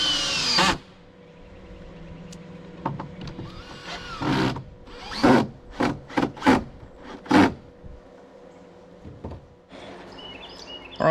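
A power drill whirs in a series of short, loud bursts, each driving a screw into a cabin porch's wooden deck boards, separated by brief pauses and handling noises.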